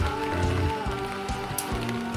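Rain falls steadily outdoors at a rural cattle-raising site with fog, a continuous patter on surfaces with scattered louder drops, heard alone without talk.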